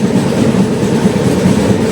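A train near Dalkhola, India, rolls steadily along the rails with a continuous loud rumble and faint rhythmic clatter, close by and unbroken throughout.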